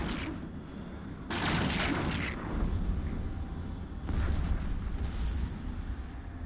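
Weapons fire on NPC pirate ships in the space game Eve Online, two long, loud blasts of rumbling bursts that swell and fade in turn over a steady low background roar.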